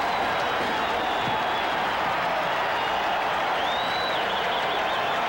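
A stadium crowd at a 1985 NFL football game between the San Francisco 49ers and New Orleans Saints, a steady loud wall of distant cheering and roar that holds throughout with no break.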